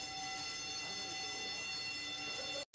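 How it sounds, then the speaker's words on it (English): A fire alarm blares through a television studio during a live music-channel anniversary broadcast, a steady, loud, continuous horn-like tone holding for nearly three seconds before cutting out abruptly near the end. "That is a fire alarm."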